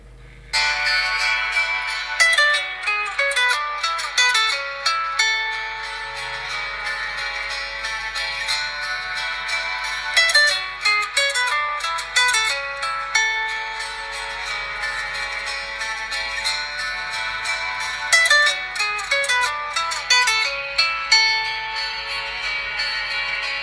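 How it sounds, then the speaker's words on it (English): The new default ringtone of a Nokia N78 phone plays alone: a bright, layered electronic melody that repeats its phrases across about twenty-four seconds, steady and clear with no talk. "actually let you hear the new ringtone that comes by default"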